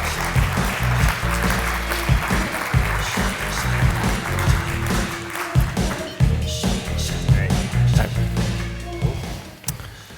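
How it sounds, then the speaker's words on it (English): Conference audience at an e-commerce event applauding panelists onto the stage, sustained clapping with uneven bursts over a low hum of the hall. "I would ask you to join me in a round of applause for them"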